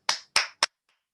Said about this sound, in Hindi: सोनी जी के लिए एक बार शानदार ताली होनी चाहिए